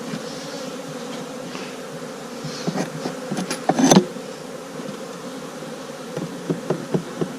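Honey bees hum in an opened beehive on a warm January day, a steady close drone of many wings with a few sharp knocks and clicks from the hive lid and frames partway through.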